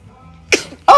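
A one-week-old baby sneezes, two tiny quick bursts close by within a second, with a soft murmur in between.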